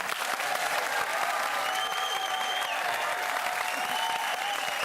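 Dense, steady applause from a studio audience thanking the guests at the end of a Spicks and Specks Christmas special TV quiz show, loud and sustained without a break for the full length.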